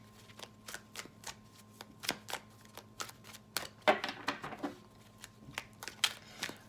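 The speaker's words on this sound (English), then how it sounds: "shuffling the deck, and we're using the Mystic Mondays Tarot." A Mystic Mondays Tarot deck is shuffled by hand, giving a steady run of crisp, quiet card riffles and taps, close to the microphone and with no other sound.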